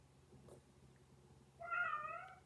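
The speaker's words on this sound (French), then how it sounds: "Je crois que peut-être vous entendez le chat." A domestic cat gives one drawn-out, fairly loud meow near the end, heard alone over a faint background hum indoors.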